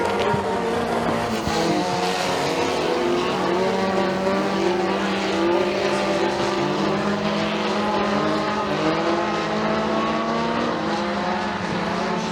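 Race cars roar continuously around an oval dirt track at McKean County Raceway during a heat race, several engines blending into a loud, steady drone with no break.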